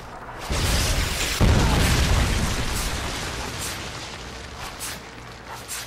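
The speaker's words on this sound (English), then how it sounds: "friendly Predator missile inbound." A Predator missile strike lands in a video game, a loud booming explosion that hits after a brief lead-in and then rolls off into a long, fading rumble.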